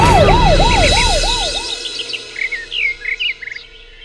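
An ambulance siren wails in loud, regular rising-and-falling sweeps close by, then cuts off, leaving scattered sharp chirping calls that fade out.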